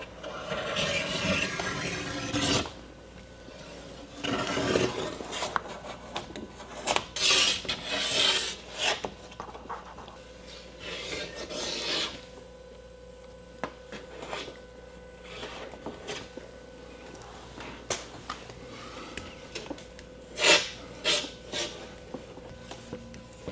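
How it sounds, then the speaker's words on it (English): Glue scraped off the top edge of a car window while replacing the tint, a dry rasping rub in uneven bursts of close scraping with short pauses between strokes. "So now just remove the glue from the top edge."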